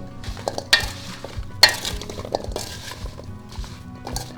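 Cubed radish for kkakdugi being tossed in a bowl with chili powder, making a busy rustle of scraping and tumbling with a couple of sharp clinks, close and fairly quiet.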